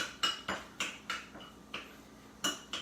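A spoon scrapes and clinks against a bowl while guacamole is stirred, giving a series of sharp, irregular taps and scrapes at close range with no talking.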